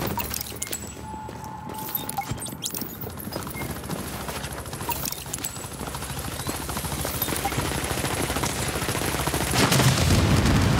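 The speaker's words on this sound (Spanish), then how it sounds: "Tenemos un helicóptero hostil sobre el patio." Hostile helicopter over a courtyard in The Division video game, a steady rotor drone with dense bursts of gunfire and impacts throughout, growing louder toward the end.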